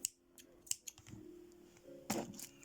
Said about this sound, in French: il ne nous reste plus qu'à couper les extrémités de fil